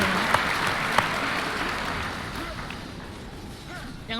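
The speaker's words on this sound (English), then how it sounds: "I think that deserves an applause." Audience applause in a hall, a steady wash of clapping with a couple of sharper claps near the start, holding at a moderate level for about four seconds before thinning slightly.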